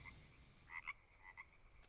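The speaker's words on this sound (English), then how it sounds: "this frog, this toad, won't stop croaking" A toad in the survival game Green Hell croaks in short, faint bursts, two or three quick croaks against a quiet jungle backdrop.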